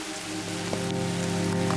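Steady rain patters densely on surfaces at a mountain festival in the hills, a close, continuous wash of drops with a low hum underneath and no talking.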